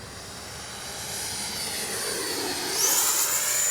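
A small jet engine whines as it approaches and passes, its hiss building steadily louder with a rising high-pitched whistle near the end.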